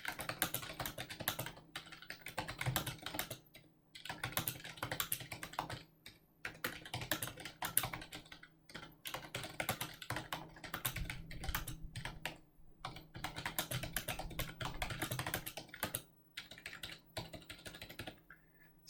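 Typing a message on a computer keyboard, a fairly faint, steady stream of soft key taps close by with brief pauses between phrases, no voices.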